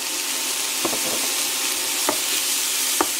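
A pan-fried filling of courgette, onion and seasoning with pepper and salt sizzles in a steady close hiss, punctuated by three or four brief scraping strokes of a utensil stirring, with no voices.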